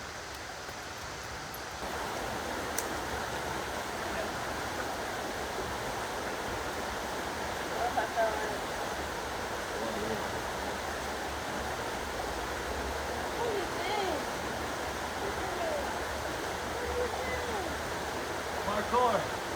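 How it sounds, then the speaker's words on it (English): A waterfall on a rocky hiking trail produces a steady, unbroken broadband rush of falling water that fills the whole stretch at an even level. "And up this way is the waterfall."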